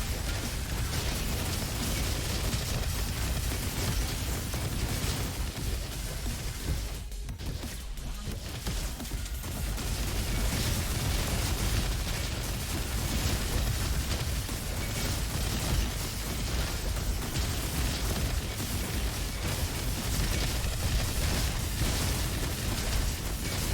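Ice Cannon weapon firing repeatedly in a video game amid dense, continuous combat noise, a loud wall of blasts and bursts with a brief dip partway through, no talk.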